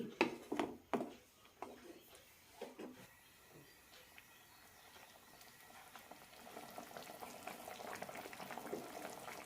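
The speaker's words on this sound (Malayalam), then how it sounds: "ഗരം മസാല ഇട്ട ശേഷം ഒന്ന് തിളച്ചാൽ മതി" Onion and tomato curry bubbles after garam masala and coriander leaves are stirred in, a few spoon knocks at first, then a gentle steady boil rising slightly, close and fairly quiet.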